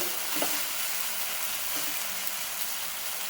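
Mashed dates being stirred in a hot pan for walnut dates halwa, a soft continuous sizzle with a couple of faint scraping strokes, close and steady, with no voices.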